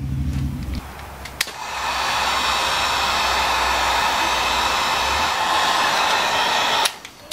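A heat gun blasts a steady loud airy roar while shrinking heat-shrink tubing on large-gauge cables for LiTime lithium batteries, then cuts off near the end with a click.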